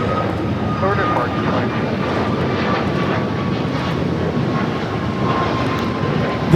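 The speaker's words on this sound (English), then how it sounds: "This is United Airlines 2047 taking off to Las Vegas on the MAX 8s" A United Airlines Boeing 737 MAX 8 takes off from Los Angeles LAX, its jet roar a steady, broad rumble heard from a distance. Faint chatter sounds underneath.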